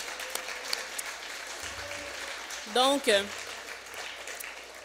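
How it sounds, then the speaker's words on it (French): Audience applause at an evening gathering, a broad steady patter of many hands filling the clip, with a short spoken word rising over it midway. "On l'applaudit, s'il vous plaît."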